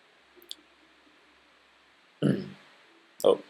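A computer mouse clicking the play button: a faint tap followed by two louder, close clicks about a second apart in a quiet room.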